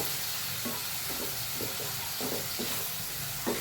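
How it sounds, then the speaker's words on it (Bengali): Spices fry in hot oil in a pan with a splash of spice water added, a steady close sizzle broken by repeated scraping stirs, no talk. "মশলার জলটা একটু দিয়ে দেবো, যাতে মশলাটা না পুড়ে যায়। একটু নেড়ে ছেড়ে নেব।"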